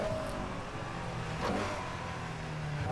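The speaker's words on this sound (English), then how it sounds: "All the cars everywhere, man, they just make so much noise" Car engines roar in the modded racing game Need for Speed Heat, a Porsche Panamera among them, giving a steady, fairly faint revving drone with a slight swell midway.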